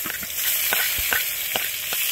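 Black cumin seeds hit hot oil as a tempering for a catfish curry, giving a loud, continuous sizzle with a few sharp crackling pops spread through it.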